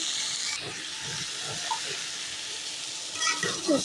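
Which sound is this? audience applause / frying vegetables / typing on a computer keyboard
frying vegetables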